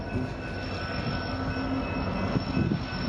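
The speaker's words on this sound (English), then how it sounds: "we saw a BNSF intermodal train led by BNSF 3782 and 6022" A BNSF intermodal freight train rolls past, with a steady low rumble of wagons, sustained high wheel squeal tones and scattered clanks throughout, fairly loud and with no speech.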